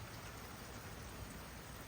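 Steady rain falls continuously during a heavy downpour, a dense, even hiss of drops on surfaces with no pauses and no voices.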